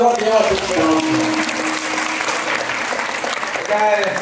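An audience at a kirtan breaks into loud, sustained applause, a dense wash of clapping that continues from start to finish, with a voice speaking over it.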